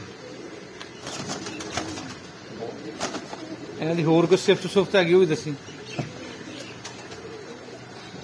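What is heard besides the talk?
pigeons cooing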